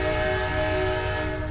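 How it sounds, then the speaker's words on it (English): A sustained, steady train horn tone holds over a low rumbling drone of rail cars rolling past Winnemucca, Nevada, loud and continuous throughout. "pauses the show for the passing train"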